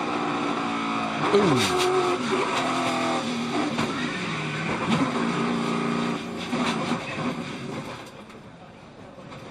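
Multi-car pileup among stock cars at the 2019 Daytona 500, heard as engine roar with screeching tire skids, pitch-dropping passes and scattered impact bangs amid crowd noise, with an announcer's voice over it.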